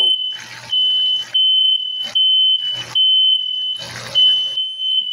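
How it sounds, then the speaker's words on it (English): A sensitive smoke alarm in a house sounds a steady high-pitched tone under loud cooking clatter while fish fries, with bursts of sizzling and handling noise around it. "My aunt got some sensitive alarm in this house, y'all."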